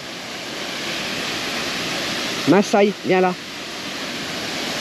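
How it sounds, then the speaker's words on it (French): Waterfall in Spain, a steady broadband rush of falling water filling the background throughout, with a few short spoken words from a nearby person partway through. "Ah bah elle est là la cascade."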